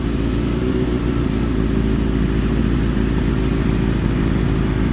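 A motorcycle engine revs hard and steadily while the rider holds a wheelie, a loud, sustained, close roar with no pauses.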